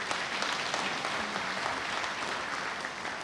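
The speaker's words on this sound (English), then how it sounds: "which got a little round of applause" A modest round of applause from an audience at a democracy pitch session, continuous light clapping from a moderate distance for a few seconds.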